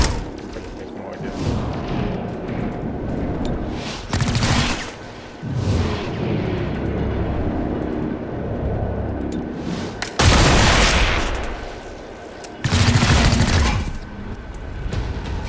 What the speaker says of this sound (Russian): В ответ выстрелил.